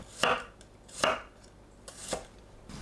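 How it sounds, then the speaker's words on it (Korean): A knife slices garlic into thin pieces on a cutting board, four crisp separate chops spaced about a second apart, close and clear in an otherwise quiet kitchen. "마늘을 편으로 썰어주세요."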